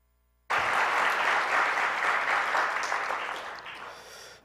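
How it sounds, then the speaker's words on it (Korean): A church congregation at a Sunday worship service applauds the pastor, sustained broadband clapping that starts abruptly and fills the room before slowly tapering off near the end. "우리 한번 박수 한번 드릴까요?"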